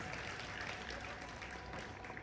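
Crowd cheering and clapping at a StarCraft esports tournament match, a steady dense roar of many voices filling the hall without letup.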